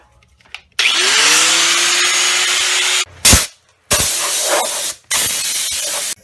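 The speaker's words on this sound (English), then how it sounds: "We're going to go ahead and try to grind this down." Dried Bondo body filler is ground down on the floor pan of a 1968-72 Chevelle, with loud, harsh power-tool grinding in several long bursts separated by short pauses and brief clunks.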